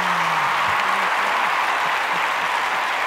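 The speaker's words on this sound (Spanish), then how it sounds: "Ovación ensordecedora." Sustained audience applause during a staged dramatized reading of a Jardiel Poncela play, a dense, even wash of clapping with a few faint voices calling out beneath it.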